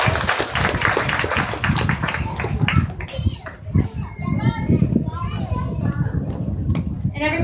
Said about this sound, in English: Everybody give Jess a round of applause right over here